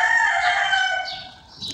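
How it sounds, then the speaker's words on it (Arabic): A rooster crows a long, clear cock-a-doodle-doo close by on a morning at home, the call rising and then trailing off, with a faint bird chirp near the end and no talking. "الديك كمان بيسلم عليكم"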